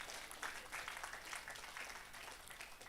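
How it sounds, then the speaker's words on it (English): Quiet, distant audience clapping at a book launch presentation, a soft, continuous patter of many hands that holds steady without swelling. "you can clap if you want to"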